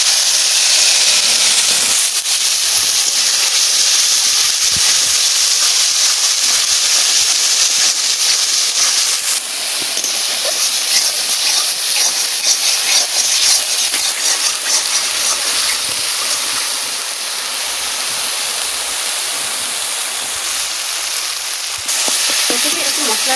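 Cumin seeds, bay leaves and spices sizzle and crackle in hot oil, a loud, steady frying hiss that carries on throughout with small bursts of spatter.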